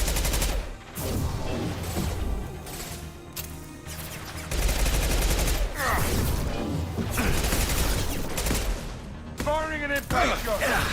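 Impact-shot gunfire from the video game Mass Effect: dense bursts of shots and mechanical clatter over loud, continuous battle noise, with a voice speaking over the action.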